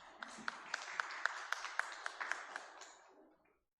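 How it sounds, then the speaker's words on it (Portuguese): A small audience at a public hearing applauds as a councillor is invited up, about ten sharp, evenly spaced claps that fade out over a few seconds. "Uma salva de palmas."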